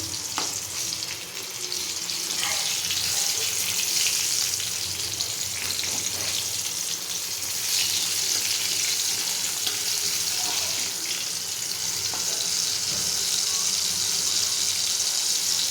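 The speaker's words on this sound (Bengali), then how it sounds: "এরপর দেবো তেলের ওপরে টমেটো কুচি" Chopped tomato frying in hot oil, giving a loud, steady, close sizzle that carries on throughout with occasional light stirring noises.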